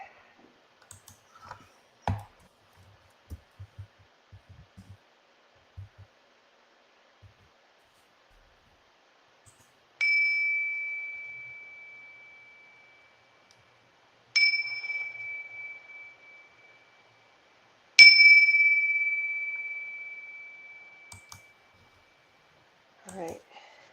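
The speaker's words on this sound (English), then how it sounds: "I'm going to ring a bell real quick." A small bell is struck three times, each ring a clear sustained tone that slowly fades, with a few soft clicks and handling noises beforehand.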